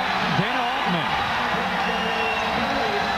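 A basketball crowd at Xavier's home arena roars steadily throughout, cheering on its feet, while a commentator talks over the noise.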